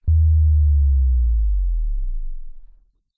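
A loud, deep 80 Hz sine sub-bass drop, pitch-shifted, starts suddenly and glides steadily downward in pitch for nearly three seconds before fading out.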